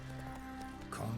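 Roach, Geralt's horse in The Witcher 3, clip-clops close by in a quick steady gallop, hooves thudding rhythmically with a brief whinny-like rise near the end.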